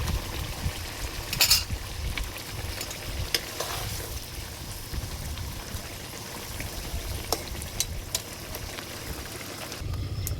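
Fish sizzles and spatters in a hot frying pan, a steady close crackle of frying with occasional sharp pops and stirring clatters, no voices.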